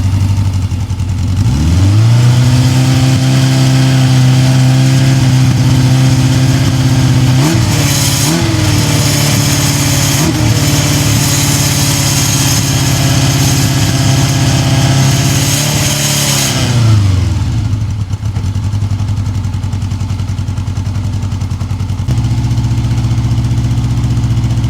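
A $600 budget motorcycle in the middle of a cheap build starts up and revs hard over a steady idle, then drops back to a rough idle near the end. It stays close and loud throughout, with no talking.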